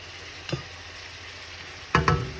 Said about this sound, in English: So right now I'll be adding my dried powder spices in.